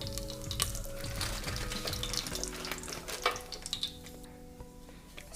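Half a spoon of cumin seeds sizzling in heating cooking oil, a steady bright crackle with small pops over a low hum, no talking.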